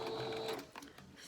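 A sewing machine whirs briefly as it back stitches the final seam of a fabric medical mask, then stops, leaving a few soft handling sounds afterward, close and fairly quiet.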